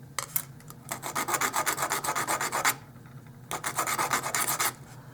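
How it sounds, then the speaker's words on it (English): Rapid back-and-forth sanding strokes rasp over a small glued dollhouse miniature flag bracket, in two quick rhythmic runs separated by a brief pause, close and clear with no talking. "Now I'm going to attempt to get this pretty close, and then I'm going to sand it off."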